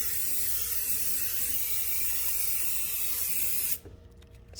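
A spray paint can coats Christmas ornaments held upright on chopsticks in floral foam, one long close continuous hiss that cuts off abruptly near the end.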